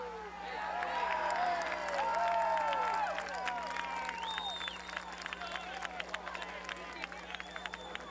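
A high school football crowd at a 1994 Thornton Academy at South Portland game cheers and shouts after a late flag, with loud, steady roar and whistles mixed with voices and scattered claps throughout.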